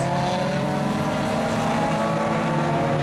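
A pack of racing cars including a Porsche sweeps through Cape Town corner on lap one, a loud continuous roar of engines blending together with no pause.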